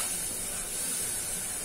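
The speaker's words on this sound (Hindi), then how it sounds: "अब ये मैं पानी डाल देती हूँ थोड़ा सा, इसको भून लूंगी अच्छे से।" Steady, loud hiss of water hitting a hot pan of frying masala for a matar mushroom curry, a continuous close sizzle with no voices over it.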